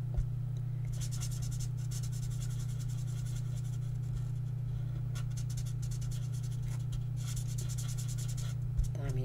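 Pens colouring a craft card, a continuous soft scratching and rubbing of nib on paper in bursts, close and quiet over a steady low electrical hum.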